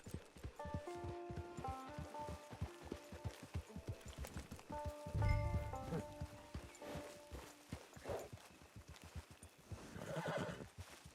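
Horse hooves clip-clop in a steady walking rhythm in the video game Red Dead Redemption 2 Online, with a whinny partway through and tonal music underneath.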